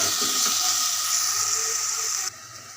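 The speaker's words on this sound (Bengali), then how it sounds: "এখন আমি কচুটাকে ভেজে নিচ্ছি" Taro pieces fry in a pan with a steady, close hiss and crackle of hot oil that holds level, then drops abruptly to a softer sizzle near the end.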